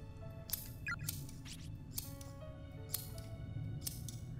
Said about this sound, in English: She was opening and closing the bloody scissors over and over again.